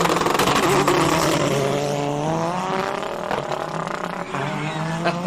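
Wade van Zumeren's race car at the Simola Hillclimb roars past loud and close, its engine note climbing steadily through the gears over a continuous crowd-and-track din.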